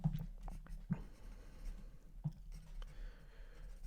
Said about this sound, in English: I gotta write that down.